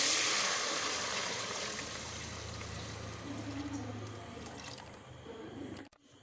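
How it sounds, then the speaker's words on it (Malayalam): Boiling water poured into a pot of rice for chicken biryani, a steady close rush of liquid that fades slightly and ends abruptly. "നല്ല തിളച്ച വെള്ളമാണ് ഞാൻ ഇതിലേക്ക് ഒഴിച്ചു കൊടുക്കുന്നത് കേട്ടോ."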